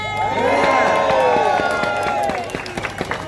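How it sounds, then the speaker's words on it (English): A crowd at a public meeting cheers and applauds, with loud overlapping whoops and shouts swelling first, then fading into scattered claps near the end. "Everyone give Claire another applause, please."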